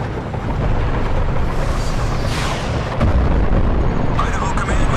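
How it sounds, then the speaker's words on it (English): Heavy rumbling booms and blasts roll through a video game battle, dense and loud throughout with a sharp crack midway and layered combat noise. "There are explosions everywhere."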